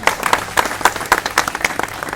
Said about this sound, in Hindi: निश्चित ही उनके साथ डबल तालियां बजनी चाहिए